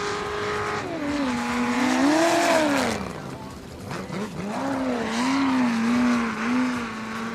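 The 03 Full Tilt Racing car drives through the trap at a pro racing series event in Yakima, Washington, its loud engine rising and falling as it revs and accelerates, with a voice heard faintly over it.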